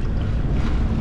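Strong wind roaring steadily at sea during a storm off the Sanguinaires islands, leaving port, heavy low rumble of wind buffeting the microphone with no talk.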